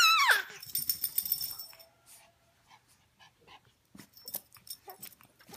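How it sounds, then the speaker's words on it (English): A dog whimpers in a high, sliding whine, then pants and gives low growly huffs in uneven bursts with quiet gaps between, close by and with no talking. "What's that crazy dog doing"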